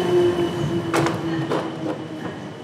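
A London train at a station, with a steady rail hum under a sustained tonal whine and a few bursts of clatter and hiss from the cars, fairly close and loud throughout.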